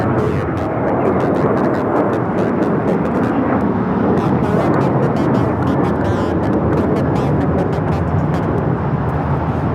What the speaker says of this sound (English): 3144 taking off to Indianapolis on the 737-800.